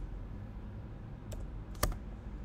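A command typed on a computer keyboard, heard as a few quiet, scattered key clicks with one sharper tap near the end, over a faint steady room hum and no talk.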